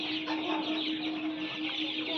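Broiler chickens, five hundred birds about a month old, cluck and murmur together in a poultry farm shed, a steady close chorus with no talk.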